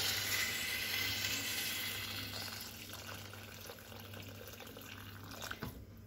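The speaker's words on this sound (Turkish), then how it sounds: "Şimdi de suyumu ekliyorum" Water pours steadily into a pot of potatoes for Turkish meatball stew, a soft continuous splashing stream that thins out toward the end, with no voices.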